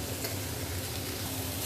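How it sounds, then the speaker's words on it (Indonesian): Beef gulai spice paste sautéing in a pan, a steady close sizzle with faint stirring scrapes running continuously throughout, no voices. "ini tumis beberapa saat"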